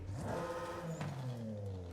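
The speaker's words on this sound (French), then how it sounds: "ça fait un petit sifflement de son turbo qu'on n'a pas forcément sur les autres voitures du jeu" Tuned BMW M2 turbo engine in Forza Horizon 5 revving hard, a loud, close, rising and falling engine note with a thin turbo whistle over it.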